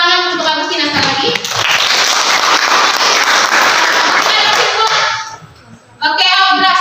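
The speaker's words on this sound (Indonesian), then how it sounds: "tepuk tangan untuk Agustina sekali lagi" A class of students claps for a classmate during a lesson on blood, a dense burst of many hands lasting about four seconds, with speech just before and after it.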